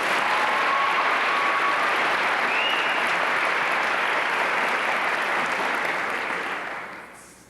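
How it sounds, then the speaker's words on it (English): A room full of people claps in sustained, steady applause for several seconds before it tapers off toward the end, with no voices standing out. "Big round of applause."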